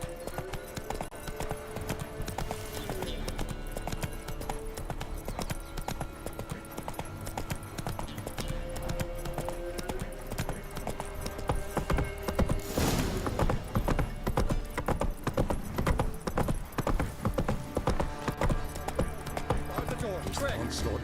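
Horse galloping in The Witcher 3 Wild Hunt, a steady rapid clip-clop of hooves that runs throughout and quickens toward the end, mixed with game music and ambience while a voice speaks over it.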